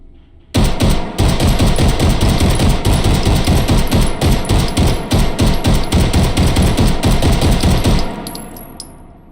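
A Luger pistol fitted with a drum magazine fires in the H3VR virtual-reality shooting game. A long, loud string of rapid, evenly spaced shots rattles for about seven seconds, then stops abruptly, with no speech.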